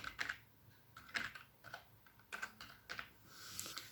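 Keys on a computer keyboard clack in a short, irregular burst of about eight crisp taps as a command is typed, close and quiet with no talking.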